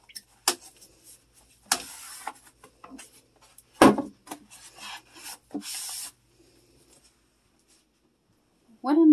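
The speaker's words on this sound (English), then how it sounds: "take a washcloth and wipe down all the excess and make sure the rim of the seat here is clean" A washcloth rubs and scrapes along a toilet seat rim in short, uneven rasping strokes with pauses between them, close to the mic, then fades to near silence near the end.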